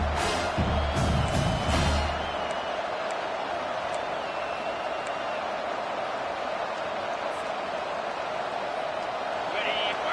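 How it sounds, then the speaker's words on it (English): Stadium crowd noise in College Football 25, a loud continuous roar of cheering fans that swells early and then holds as a broad, steady wash, with a commentator talking over it. "how nice is it to have the home crowd going absolutely bananas?"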